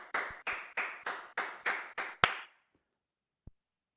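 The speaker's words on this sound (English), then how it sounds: "I'll applaud that" A single person claps seven times in a steady rhythm, close and crisp, while watching a badminton final. A short pause and one faint tap follow, with no talk.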